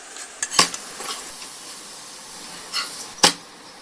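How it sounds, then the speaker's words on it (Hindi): A kuttu atta paratha fries in ghee on a pan with a faint, steady sizzle, broken by a few sharp metallic clinks and scrapes of a spatula against the pan. "दोनों तरफ ऐसे ही पलटी करके गोल्डन ब्राउन होने तक फ्राई कर लेंगे"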